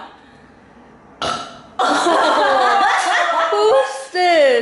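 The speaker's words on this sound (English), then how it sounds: "Stop burping." Several loud, close burps, one after another, with chuckling and laughter and people talking in between.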